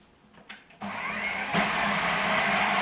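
An electric blender whirs loudly and steadily, mixing milk, almond milk and a little vanilla for a healthy banana recipe; a couple of clicks come first, then the motor kicks in and surges higher partway through, close up, no talking.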